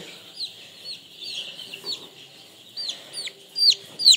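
Farm chickens, some of them sick with a disease, give soft, scattered clucks nearby, growing louder and sharper toward the end, with a quiet background and no speech.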